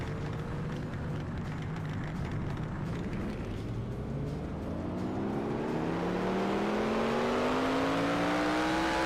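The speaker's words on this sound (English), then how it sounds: "you can hear it in the engine. That thing is rough." A rough-running race car engine in the NR2003 racing game at Sonoma Raceway, a loud steady drone that rises in pitch as it accelerates, with no talk over it.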